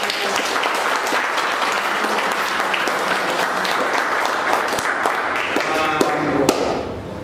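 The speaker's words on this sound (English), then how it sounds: "Please clap the hands once more." An audience at a hosted coffee talk event applauds steadily, a dense wash of many hands clapping at full volume throughout before easing off slightly at the end.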